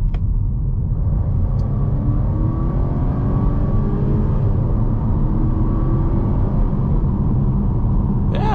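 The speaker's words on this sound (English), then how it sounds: "yeah, so pretty brisk acceleration for this B5 motor" A 2023 Volvo S60 B5 with its 247-horsepower engine accelerates at full throttle from about 25 mph, a steady rising engine drone and road rumble heard from inside the cabin, with no talk.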